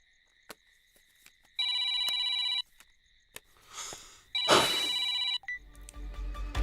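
A telephone rings in two electronic bursts, each about a second long, separated by a short gap. Sharp clicks and a noisy rustle sound between the rings.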